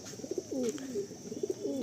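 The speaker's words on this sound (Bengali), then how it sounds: "এইরকম পায়রা প্রচুর আছে এই লফটে" Pigeons coo nearby in a loft in two soft, rolling phrases, low throaty calls repeating with a short gap between them.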